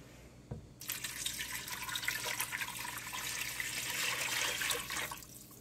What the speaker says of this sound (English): I'm going to pour in my water,